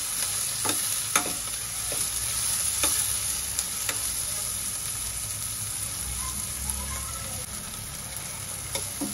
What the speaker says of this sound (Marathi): टोमॅटो छान एकजीव होईपर्यंत आपण परतून घेऊया।